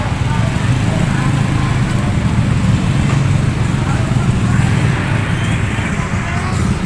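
Dense street traffic of tricycles and jeepneys in Bay, Laguna during town fiesta preparations, a loud, steady rumble of engines and road noise close by.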